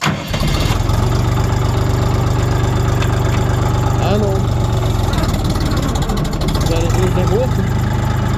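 A loud Kentavr 244S tractor engine rumbles steadily throughout with low, throbbing pulses, rising briefly as it is revved, while people talk over it.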